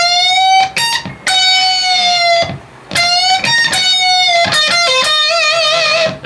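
Electric guitar playing a riff from a song, loud sustained notes with pitch bends, pre-bend releases and wavering vibrato, separated by short pauses, played alone.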